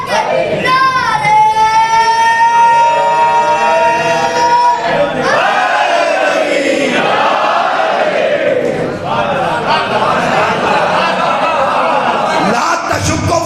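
Crowd at a religious gathering chanting slogans with raised hands, a loud leader's sustained call answered by massed voices in rising and falling waves, filling the hall continuously.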